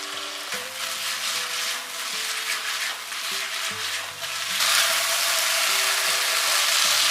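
Rice cakes sizzle in a hot wok while being stir-fried with soy sauce and sesame oil, a steady bright frying hiss broken by scraping stirs and clanks of the spatula, growing louder toward the end.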